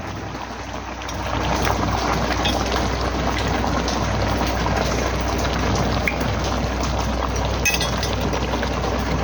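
Rain falling steadily outdoors during a cookout, a dense hiss of drops that thickens after the first second and stays even throughout, with a low hum underneath and no talking.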